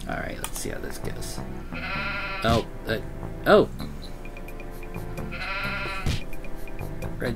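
Sheep bleat a few times in a cute puzzle video game with a wolf, short cartoonish cries popping out over steady background music while a person talks.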